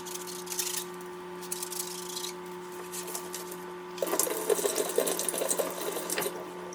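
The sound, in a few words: cleaning water bottle straw with a straw brush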